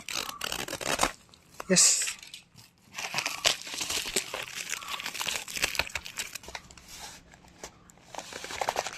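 A courier package holding a car antenna for a Suzuki Zen is torn open, with crinkling plastic, ripping tape and rustling wrap at close range, broken up by short stretches of speech.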